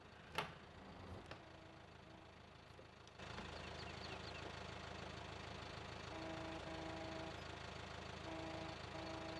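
A tractor in Landwirtschafts-Simulator 17 starts after a few clicks, then settles into a steady, low, droning idle that carries on evenly to the end.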